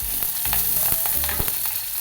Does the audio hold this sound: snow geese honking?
no